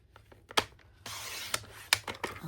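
Designer series paper being cut on a paper trimmer for a scrapbook layout: a few sharp clicks and a short rasping slide of the blade, close and fairly quiet.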